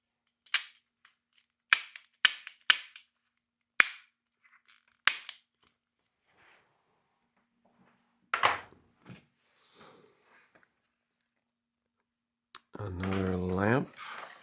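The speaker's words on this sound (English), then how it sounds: "Little cap gun." A small toy cap gun fires a string of sharp, close pops, about six quick shots at uneven intervals. Quieter clicks follow, and a voice speaks near the end.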